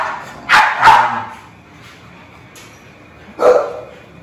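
A dog barks close by: two quick barks in a row, a pause, then one more bark, with quiet room tone in between.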